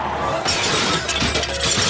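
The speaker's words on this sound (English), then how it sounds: "Did I just hear the sound of shattering windscreen glass?" An RV windscreen shatters with a loud, sudden burst of breaking glass, followed by a dense spray of tinkling shards that carries on steadily for nearly two seconds.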